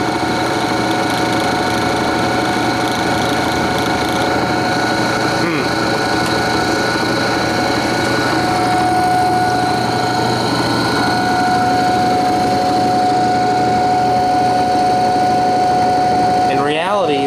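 An old Imperial Electric dynamo runs with a steady machine hum and a sustained whine, rising in pitch near the end, while a person talks over it throughout.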